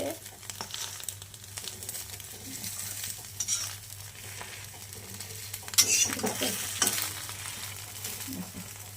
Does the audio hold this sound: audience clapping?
no